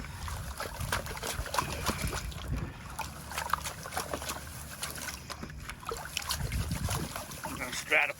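A metal gold pan of drywasher concentrates is swirled and angled to settle the gold, giving a continuous soft sloshing and rattling of grit and water with light breezy outdoor noise throughout.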